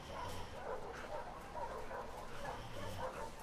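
A dog barks and yips repeatedly in the video game The Last of Us Part II, heard as a continuous stream of excited calls over a dense, noisy background.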